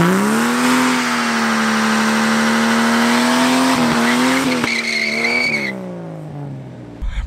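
A car's rear tire spins and squeals during a powershift, a loud, steady high-pitched screech over a droning engine that shifts pitch near the end and then cuts away.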